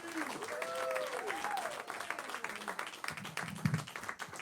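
A comedy-club audience applauds a comedian being introduced, with continuous, fairly faint clapping heard from a short distance while a voice speaks over it.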